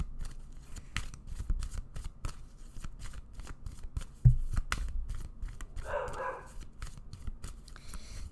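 A deck of pick-a-card reading cards being shuffled in quick, regular riffling snaps close by, with a brief thump partway through and a short louder burst of noise after it.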